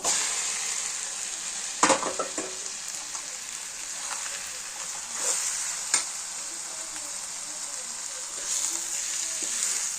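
A spice mixture goes into chicken curry frying in a pan, giving a bright continuous sizzle with a few sharp stirring knocks and scrapes close by.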